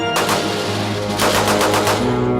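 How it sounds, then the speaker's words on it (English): A U.S. M1 .30 caliber rifle fires several sharp shots in quick succession, loud and close, each crack followed by a short ringing echo. "This is a U.S. rifle caliber 30 M1."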